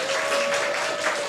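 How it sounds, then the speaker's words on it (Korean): A church audience claps in a short, loud burst of dense, continuous applause, with a steady held tone sounding beneath it. "다시 한번 박수 부탁드리겠습니다"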